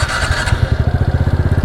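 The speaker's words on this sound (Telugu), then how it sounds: "సో ఒకసారి ఎగ్జాస్ట్ నోట్ అయితే ఇందాం." A TVS Ntorq 125 scooter idles close by, its exhaust putting out an even, rapid low thump that holds steady throughout.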